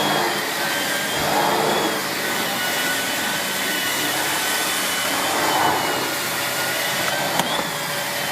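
A Miele S8730 HEPA (C3 Complete) cylinder vacuum cleaner runs steadily and loudly, its motor whine holding level for about eight seconds with slight swells as the nozzle moves, with no talking.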